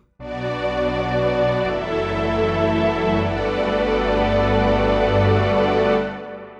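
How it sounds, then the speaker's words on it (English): A sustained analog-style string synth pad swells in and holds steady for several seconds, a thicker layer joining partway through as the mod wheel is raised, before it fades out. "Move the mod wheel up and it brings in another layer."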